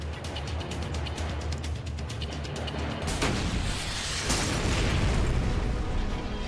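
An RPG-7 rocket launched from about 100 yards at a vehicle, a sustained roar followed by a loud, broad blast and rumbling explosion partway through, with no talking.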